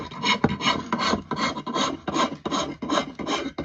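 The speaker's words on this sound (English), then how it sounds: "Just taking off bulk material with a rasp now." Rasp working a new hickory axe handle, rhythmic rough strokes repeating about every half second, close and fairly quiet with no talk.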